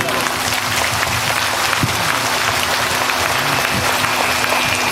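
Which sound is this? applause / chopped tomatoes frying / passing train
applause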